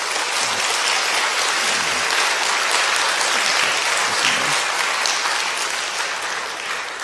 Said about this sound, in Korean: 여러분들 인사드릴 때 따뜻한 박수 부탁드리겠습니다.